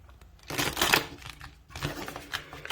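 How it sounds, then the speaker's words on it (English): Two short bursts of crisp riffling as a deck of tarot cards is shuffled close by, separated by a brief pause, with no talking. "I'm going to give it one more shuffle"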